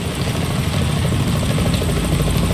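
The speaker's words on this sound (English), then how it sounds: "Is that a chopper I just heard?" A helicopter from the Metal Gear Solid 2 tanker mission, a steady loud rotor drone with low engine rumble throughout, no other sounds over it.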